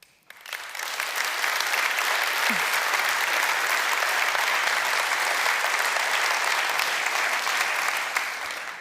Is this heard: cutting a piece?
no